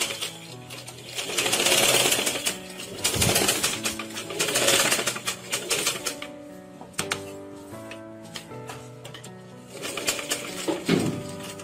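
A tailoring sewing machine stitches a small edge seam on a sleeveless umbrella frock, running steadily in close bursts with a faint ticking rhythm over a tonal background.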